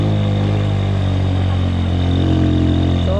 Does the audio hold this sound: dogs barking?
no